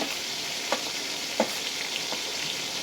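Olives that were boiled and washed beforehand go into a hot pan for olive pickle, frying with a steady close hiss and a few light spatula clicks, no talking.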